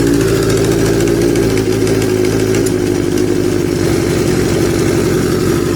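A Kawasaki Z650B motorcycle engine runs close and loud after restoration work, a steady throbbing idle that shifts into a quicker, rougher beat partway through, with no voices.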